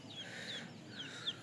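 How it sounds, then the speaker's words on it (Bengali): Several native chicken chicks cheep softly on a small Bangladeshi home farm, four short high peeps over a quiet background. "অল্প কয়েকটা দেশি মুরগির বাচ্চা"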